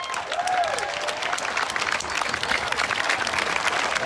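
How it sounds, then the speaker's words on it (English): A crowd at an outdoor community march for Black Lives applauds and claps, a dense sustained patter of many hands with a brief whistle or cheer near the start. "Clap it up for Peyton."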